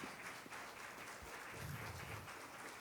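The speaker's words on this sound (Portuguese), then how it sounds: "Aplauda ao Senhor mais uma vez." Church congregation applauding during a Sunday morning service, a steady faint wash of clapping that carries on evenly throughout with no voices over it.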